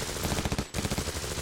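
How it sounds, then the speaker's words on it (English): Fireworks in a cartoon crackle in a dense rapid string of pops, loud and continuous, with a brief break partway through. "Oh, Bob, did you hear the fireworks?"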